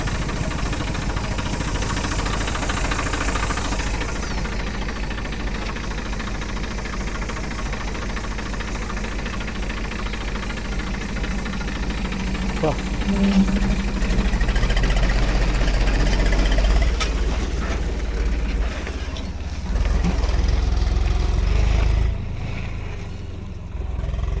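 Diesel tractor engine running steadily near a hillside village, a continuous low rumble that swells slightly louder toward the end, with no talking.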